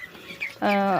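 Chicken sounds up close: faint background murmurs, then a loud, drawn-out harmonic call from a hen filling the last part.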